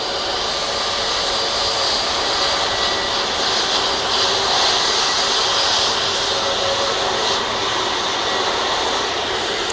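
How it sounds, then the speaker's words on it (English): A Boeing 787-8 Dreamliner departs Manchester Airport for Tenerife, a loud, sustained jet engine roar with a hissing high edge that stays even across the whole stretch, heard alone. "that 787-8 Dreamliner now off to Tenerife"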